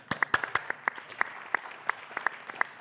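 Sparse, distinct claps from a small audience at a venture capital panel, a dozen or so separate hand claps spread unevenly over about three seconds, fairly faint against a quiet room.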